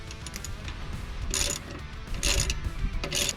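A ratchet snugs a bolt on a dual steering stabilizer bracket on a 2019–2024 Cummins truck, giving three bursts of quick, close clicking separated by short pauses of quieter mechanical handling.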